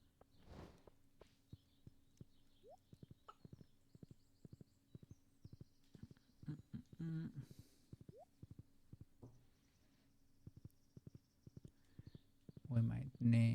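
Horse hooves clip-clop in a quiet setting, a series of soft, fairly faint taps in an irregular walking rhythm, with a few brief louder bumps and scrapes mixed in.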